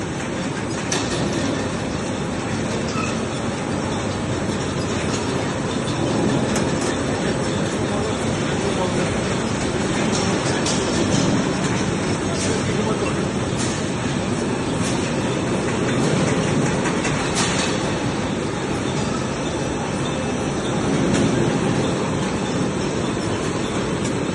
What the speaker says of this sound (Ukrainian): Цей каліброчик зроблений в Україні в Славутичі